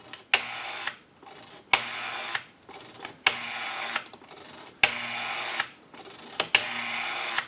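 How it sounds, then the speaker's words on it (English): An Automatic Electric rotary wall telephone dial spins back repeatedly, five crisp whirring returns of about a second each, separated by short pauses and small clicks, close and clear with no talk. "We have a nice smooth return on our rotary now."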